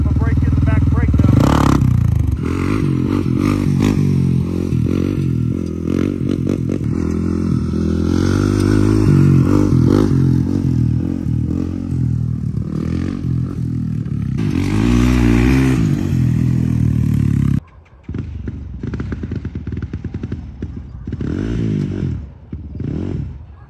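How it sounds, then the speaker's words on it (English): A Honda 400EX ATV engine, freshly rebuilt with a 400cc big bore kit, idles and revs lightly up and down at varying speeds during break-in, with clattering and scraping, then drops to a quieter rumble near the end. "Light revs, revving her up a little bit, you know, different RPM."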